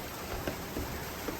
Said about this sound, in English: it is not just raining, it is full-on hailing